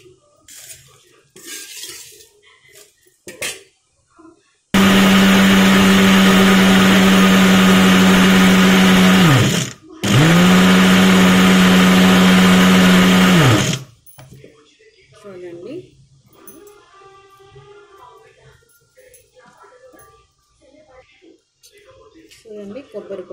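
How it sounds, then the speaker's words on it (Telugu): A kitchen mixer grinder grinds coconut, dried red chillies and cumin in two loud whirring bursts of several seconds each, split by a brief pause. Quieter kitchen sounds and a voice can be heard before and after. "ఇప్పుడు మిక్సీ పట్టుకున్నాను, ఇవన్నీ వేసుకోవాలి, కొబ్బరి, ఎండుమిర్చి, జీలకర్ర"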